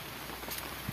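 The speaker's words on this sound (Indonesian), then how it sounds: "Dan ini hujan gerimis." Light drizzle falls in a quiet village, a soft, faint patter of raindrops on surfaces over a steady hiss, brief and without voices.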